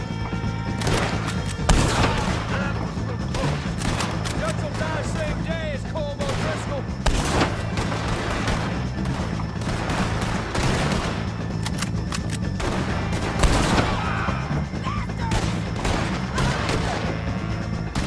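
Heavy gunfire erupts in a Red Dead Redemption 2 shootout against O'Driscolls, with dense, repeated loud shots and booming impacts throughout, along with shouting voices in the mix.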